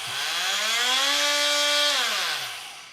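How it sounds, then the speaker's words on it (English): A Milwaukee cordless multi-tool whines as its motor spins up, holds a steady high-pitched drone for about two seconds, then winds down, loud and close with no talking. "So Joe Thomason, this is what I could tell you about my multi-tool."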